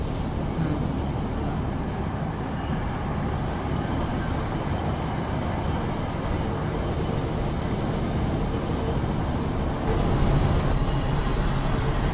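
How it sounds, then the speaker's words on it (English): Steady rumble and clatter of a passenger train on the Tamar Valley line rolling along the rails, heard from inside, with a brief rise in rushing noise near the end. "We're on the train now, the Tamar Valley line"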